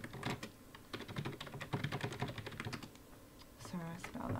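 Rapid typing on a computer keyboard, a dense run of light clicking keystrokes close up with brief pauses, followed by a short burst of speech near the end.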